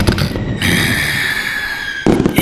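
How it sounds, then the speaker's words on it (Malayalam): Firecrackers set off by boys celebrating Vishu, a loud crackling burst at the start, a steady hissing stretch in the middle, then another dense crackle at the end, close and continuous throughout. "ഈ ചെറുക്കന്മാരിത് വിഷുവാന്നും പറഞ്ഞുകൊണ്ട് പടക്കം പൊട്ടിച്ച് അങ്ങ് കളിക്കുവാന്നില്ല"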